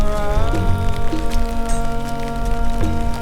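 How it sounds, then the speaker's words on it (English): Heavy storm rain pelts down around a kayak in Marble Canyon near Lees Ferry, Arizona, a steady dense patter and splatter heard under loud, continuous background music. "Yup, it is coming down. A lot of rain."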